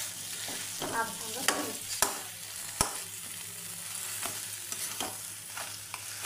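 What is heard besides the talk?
stirring fish head muri ghonto with spices in pan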